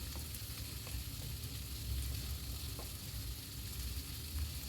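Ground spice paste for katla fish fries in a pan, giving a soft, even sizzle with faint scraping and stirring throughout.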